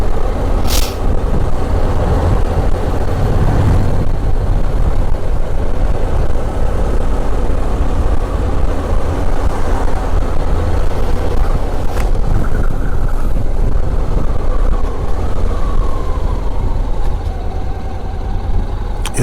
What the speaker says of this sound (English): It's a traffic jam in Burns Lake.